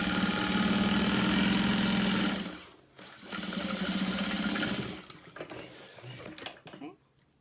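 A sewing machine stitches through a vinyl tote bag with a loud, steady mechanical hum. It runs in two bursts separated by a short pause, then slows and stops.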